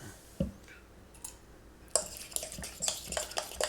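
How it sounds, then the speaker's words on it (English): Spoon stirring sour cream in a bowl for tzatziki, with scattered clinks and scrapes against the dish that grow busier and more continuous in the second half. "First thing you want to do is mix this up before you add anything else."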